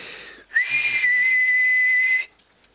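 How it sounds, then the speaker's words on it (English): A loud, piercing whistle blown with the little fingers in the mouth, held steady for well over a second, rising briefly at the start before sustaining, preceded and followed by quiet room sound. "Put your little fingers in your mouth and blow."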